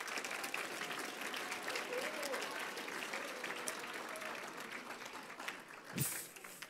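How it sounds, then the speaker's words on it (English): An audience at a senior awards chapel claps steadily, a dense crowd applause sustained for several seconds at moderate distance, with a brief louder knock near the end. "Please give them applause."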